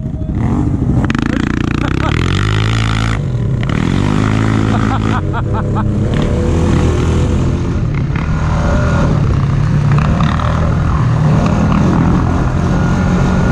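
A Highlifter Yamaha Kodiak 700 ATV engine roars loud and close throughout, revving up and down in a rough, continuous drone, with voices talking over it.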